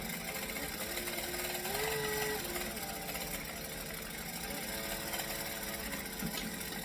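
A sewing machine runs a seam with a backstitch while joining fabric layers for a bag exterior, a continuous close mechanical whirr with a brief pitch shift partway through and no voices.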